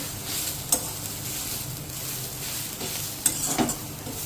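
Chickpea greens mixed with coarse peanut powder sizzle steadily in a pan, with soft scraping stirs and a few sharp clinks of a utensil against the metal, heard up close.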